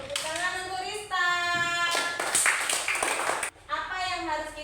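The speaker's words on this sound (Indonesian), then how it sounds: "Tepuk tangan untuk Rista." A classroom of children claps briefly for a student in an Indonesian lesson, a short burst of hand clapping between stretches of spoken talk.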